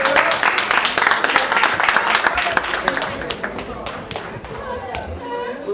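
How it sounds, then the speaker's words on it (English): An audience at a Newark signing event applauds, with many hands clapping in a crisp, busy rhythm along with cheers and chatter, loud at first and gradually thinning toward the end. "Give him a round of applause."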